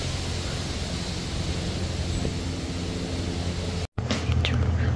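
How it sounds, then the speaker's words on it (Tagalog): Strong wind roars as a steady, broadband rush close to the microphone, briefly cutting out near the end before resuming. "Grabe ang lakas ng hangin, guys."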